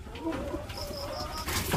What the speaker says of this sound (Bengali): এই দেখো ঘুঘু পাখিগুলো ডিমে তা দিচ্ছে